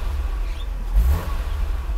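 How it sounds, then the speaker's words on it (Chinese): A 1993 Mercedes 300GE with its 103 engine, just repaired after stalling on throttle, revs briefly once in a short burst over a low steady idle, heard up close with no talk. "看它的引擎反应"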